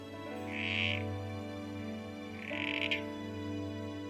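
Frogs at Melbourne Zoo's breeding facility, Baw Baw or southern corroboree frogs, give two short, buzzy croaking calls about two seconds apart over a steady low background hum.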